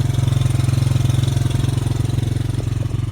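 Small 100R motorcycle engine idling steadily up close, a rapid even putter with a regular pulsing rhythm and no voices.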